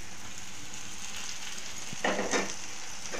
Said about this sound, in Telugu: ఇప్పుడు ఈ టమాటా మెత్తగా మంచిగా ఫ్రై అయిపోవాలి.